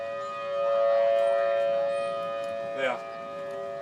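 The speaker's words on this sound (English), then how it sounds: "hear them tornado sirens?" Outdoor tornado civil-defense sirens wail in a steady, sustained tone that swells and eases slightly. A person briefly murmurs partway through.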